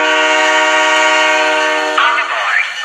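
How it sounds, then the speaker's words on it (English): A loud, sustained train horn blares for about two seconds in Halo 3: ODST as a train departs, then cuts off as a voice begins speaking. "On board. Last train."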